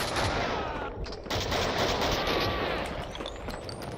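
Dense rapid gunfire in Max Payne 2 rattles on close and loud for several seconds, bursts overlapping with sharp crackling reports and no speech.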